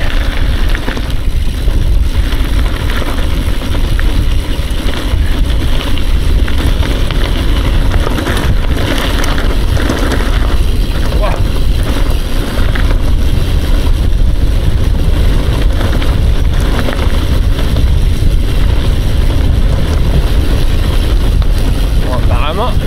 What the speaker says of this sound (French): Quel vent par contre. Wow, ça souffle depuis des jours là